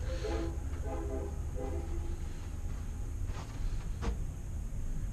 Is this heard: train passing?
yes